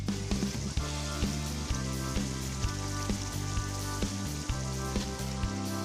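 Potatoes frying in spices in a pan for aloo palak, a steady close sizzle and crackle with faint regular ticks and pops throughout, with no talk.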